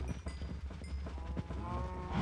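Cattle in the Minecraft survival game low and moo repeatedly on a crowded farm, the calls overlapping closely with game clicks and ambient noise, fairly loud throughout.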